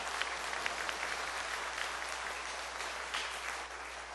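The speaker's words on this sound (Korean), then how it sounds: "우리 감사의 박수로 영광 올려드리겠습니다" A church congregation at a Korean service claps in steady, even applause for about four seconds, heard from a distance and at a modest level with no speech over it.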